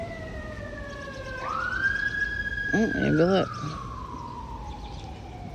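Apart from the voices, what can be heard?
sirens passing outside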